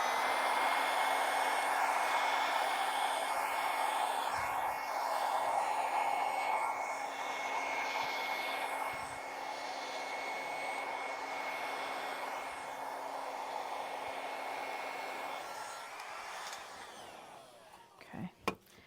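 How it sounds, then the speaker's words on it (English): A hair dryer blows onto a painting canvas with a steady, quiet whooshing motor hum that runs for most of the time, then cuts off near the end with a few soft clicks. "I keep taking my hair dryer into the canvas."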